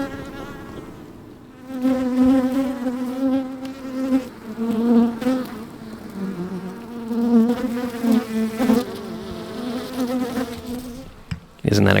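Honeybees buzzing at the entrance of a beehive, recorded up close, a steady droning hum that swells and dips with the traffic of passing bees.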